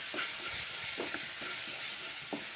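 Chole masala with coriander is stirred in a pan over a low flame: a soft, constant sizzle and hiss with a few light scraping strokes of the spoon, fairly quiet and without speech.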